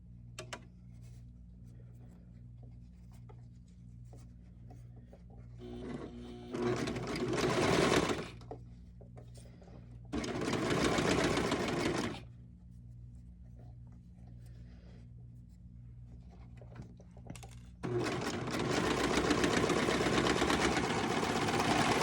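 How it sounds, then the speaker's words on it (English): A sewing machine runs a stretch stitch on a doll T-shirt in three separate bursts of rapid mechanical stitching, with quiet pauses and a steady low hum between them. "a stretch stitch on your regular sewing machine"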